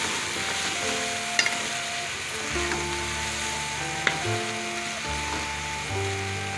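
Chicken being dry-fried (bhuna) in a pot for palak gosht, a steady loud sizzle with occasional scraping clicks of a spoon against the pan, with no voices.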